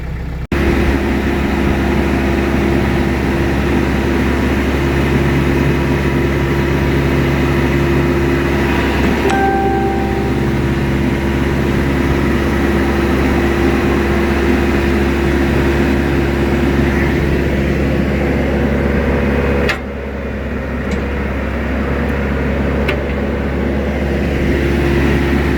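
A TYM T574 HST tractor's engine drones steadily and close while its loader lifts, a low humming tone that shifts pitch around the middle and dips briefly before settling near the end.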